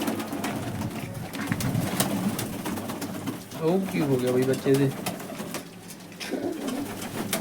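Pigeons coo nearby in soft, throaty bursts while someone talks over them; some are perched on pigeon roosting stands.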